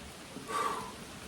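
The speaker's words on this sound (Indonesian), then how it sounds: "Hujan." Rain falls steadily outdoors while grass is being cut, a soft, even hiss that swells briefly in the middle, heard alone without talking.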